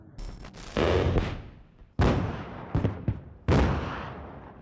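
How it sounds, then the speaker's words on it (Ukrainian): Several loud, sharp blasts and bursts of gunfire ring out during a drone attack in Sevastopol, each booming and then fading, with quieter gaps between the heavy impacts. "Ось безпілотник, стрілянина і вибухи в серці Севастополя біля штабу Чорноморського флоту."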